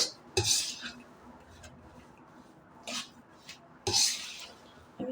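A spoon scrapes and clinks against a pan as besan is slowly roasted for laddu, with a few sharp metallic strokes separated by quieter stretches of soft scraping, close by and without talk.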